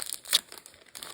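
A Pokémon card booster pack wrapper is opened with a quick crinkling rustle of foil plastic and a sharp crackle near the middle, close up with no talk.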